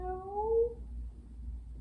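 A person imitates a cat's meow with a single drawn-out falling vocal meow, close and clear, over a low background hum.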